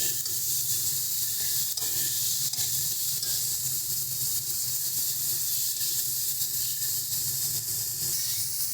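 Masala spice paste fries in oil in a pan for Bengali catla fish kalia, giving a continuous bright sizzle and hiss with occasional stirring knocks.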